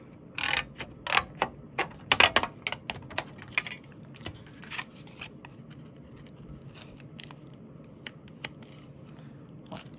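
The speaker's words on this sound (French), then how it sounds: "Je prends un petit ciseau." Small scissors snip at a craft box, making a quick run of crisp, sharp clicks close up that thin out to sparse, fainter snips against a quiet background.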